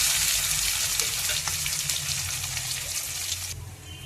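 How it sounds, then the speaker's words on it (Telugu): Chopped onions and green chillies fry in hot oil for a fish curry, giving a loud, steady, close sizzling hiss that carries on without a break. "ఇప్పుడు ఈ ఆనియన్స్ ముక్కలు పచ్చిమిర్చి వేసేసుకుందాం"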